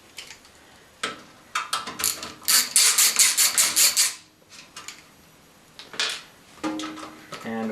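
Working out a power supply screw, a ratchet screwdriver clicks up close in scattered bursts, then settles into a fast run of crisp, evenly spaced clicks before slowing into a few more separate strokes.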